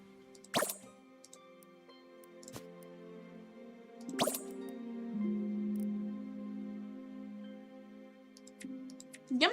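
Water drips in the Hytale video game: sparse, quiet plops and drips spaced several seconds apart over a soft, low, steady background tone.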